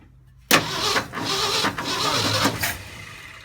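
Ford F250 engine cranking over repeatedly after a Pertronix Flame Thrower II distributor install, a loud sustained churning starter whir with rhythmic surges and brief dips, close up and without speech.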